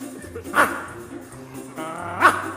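A dog barks twice, sharp and close, about a second and a half apart, with quiet murmuring between.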